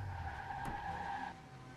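Car tires skid and squeal in the video game Watch Dogs, a loud sustained screech lasting over a second over a steady engine drone, then easing off.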